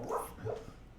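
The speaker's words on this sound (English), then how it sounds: "that's my dog in the background snoring." A pet dog in the background making odd snorting, whimpering snore noises, two short muffled bursts, fairly close, with no one talking.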